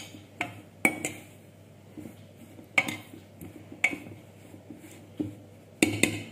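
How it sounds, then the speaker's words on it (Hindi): Spinach kofta mixture with gram flour mashed and stirred in a bowl, producing irregular sharp clinks and taps of a spoon against the dish with soft scraping between them. "इन सबको पहले मैश कर लेंगे, मिला लेंगे सभी को।"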